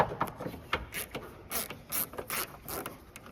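A hand ratchet clicks in quick, uneven runs, loosening nuts on the rear inner tail light of a 2014-2016 Toyota Highlander. The clicking is close and clear, with no talking.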